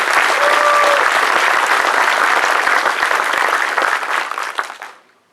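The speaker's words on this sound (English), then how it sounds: "Round of applause for the ALS team" A graduation audience at an ALS class ceremony breaks into loud, dense applause that holds steady for several seconds, then thins to a few scattered claps and fades out.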